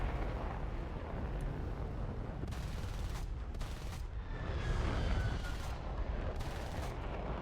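Heavy rapid cannon fire from a J35XS Draken jet in War Thunder, bursts of booming shots layered over a constant engine rumble, loud and close with short pauses between volleys.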